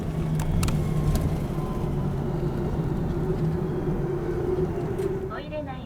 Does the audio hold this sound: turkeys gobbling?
no